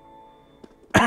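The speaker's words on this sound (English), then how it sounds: "Sorry for the coughing." One sharp, loud cough bursts out near the end, after a quiet stretch that holds a faint throat sound.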